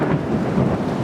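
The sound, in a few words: thunder during a thunderstorm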